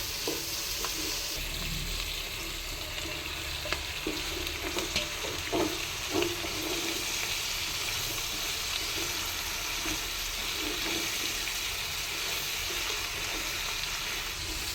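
Onion, capsicum and soya chunks fry in a pan, an even, continuous close sizzle with occasional soft scrapes and taps of stirring throughout, and nobody speaking.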